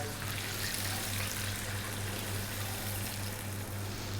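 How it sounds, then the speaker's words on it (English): Cold water pours steadily into a cooking pot, a continuous close rushing stream with no talk, for a chicken curry. "Next up, water. Cold water."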